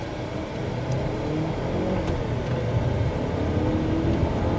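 Jaecoo Omoda C9 being floored from a standstill toward high speed, a steady broad engine and road roar that holds loud and even throughout with a faint whir above, no talk.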